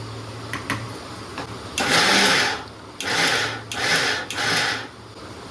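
A mixer grinder coarsely grinds sprouted mung beans, running in four short whirring bursts separated by brief stops, loud and close, with a few faint clicks before the first burst.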